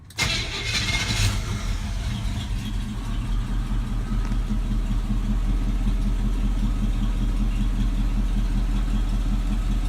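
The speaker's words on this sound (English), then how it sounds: "the sound of the exhaust, but it just sounds like an old truck" An old Chevy K20 truck engine cranks and catches, then settles into a low, rumbling idle with a steady throbbing exhaust note that continues close and unbroken.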